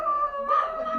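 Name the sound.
person imitating a dog barking woof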